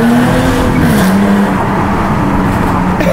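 A Jaguar car drives loudly close by, its steady engine drone carrying a pitch that slides down and then holds, with tyre and road noise filling the whole stretch.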